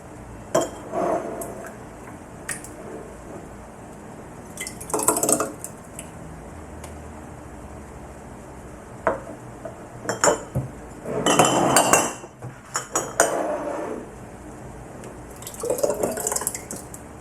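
Pressed tomatoes from a manual tomato press run into glass jars, with wet drips and clinks of glass coming in bursts amid quieter pauses, close by and without talking.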